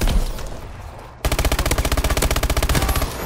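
Rapid automatic fire from the MP11 in Call of Duty: Advanced Warfare, a loud, close, steady stream of sharp shots at a very high rate that cuts in suddenly after a noisy stretch of game sound.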